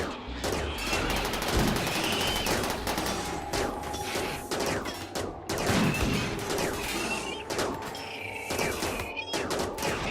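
Gunfire and turret fire from the RimWorld video game are aimed at a ship, producing dense overlapping bursts of rapid shots and crackling impacts that continue loudly throughout.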